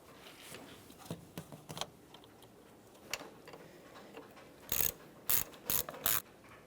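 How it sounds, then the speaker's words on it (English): A ratchet snugging a 10mm brake master cylinder mounting bolt on a 2012-2015 Honda Civic gives several quick runs of clicking near the end, after quieter scattered ticks, close and fairly soft. "Start in your 10mm headed mounting bolt and snug it up."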